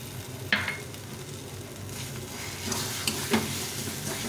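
Green chillies being stirred into masala frying in a pan, a steady sizzle with a few scraping clinks of the spoon.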